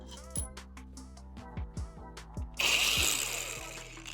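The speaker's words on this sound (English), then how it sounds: "I'm using the angle grinder to sharpen the edges of the metal disc." An angle grinder sharpening the edges of a metal disc clamped in a vise. A few close taps and clicks come first, then a loud, harsh grinding rush that slowly fades.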